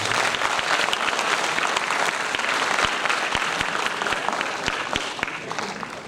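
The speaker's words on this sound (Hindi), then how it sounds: "कलाकार मानक पे गोटे जोरदार ताली दियंतु" Strong, steady applause from an audience cheering drama performers at a college annual drama show, dense clapping that fills the space from start to end and eases off slightly near the close.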